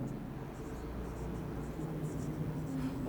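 Marker or chalk writing a number on a classroom board, a soft continuous scratching of short strokes, close and fairly quiet.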